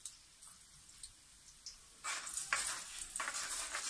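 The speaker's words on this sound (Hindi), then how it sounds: "प्याज को अच्छी तरह मैंने ब्राउन करना है" Sliced onions and bay leaves browning in a pan of oil for chicken do pyaza; a near-silent start gives way halfway through to a loud, steady crackling sizzle with scattered pops.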